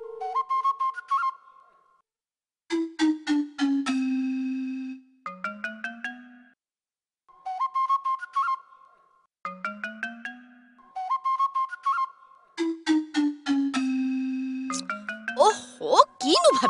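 A phone ringtone sounding during a call, repeating as bright whistly melodic phrases in several bursts with short pauses between them, fairly clear and ending in a brief noisy flutter.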